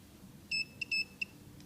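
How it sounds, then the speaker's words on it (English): A Lucky FFW718 wireless fishfinder sounds its big-fish alarm: a short burst of high electronic beeps, one longer tone followed by three quick chirps, clear over faint background noise. "the large fish that passed by, it triggered the alarm"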